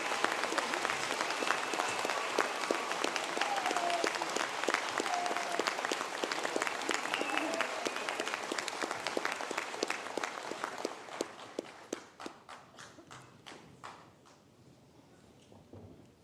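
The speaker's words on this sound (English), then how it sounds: "give a round of applause" A graduation conferring ceremony audience applauds a standing group of students: a loud, dense roll of many hands that thins after about eleven seconds into scattered individual claps, then fades to near silence.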